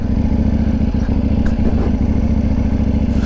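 A KTM 790 motorcycle rides in sport mode, its engine a loud, steady, close drone with slight clattering texture throughout and no talk.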